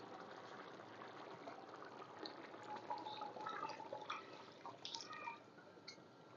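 Water poured into a cooking pot for drumstick biryani made with ordinary boiled rice, a steady close pouring and filling sound with dripping splashes, no talk.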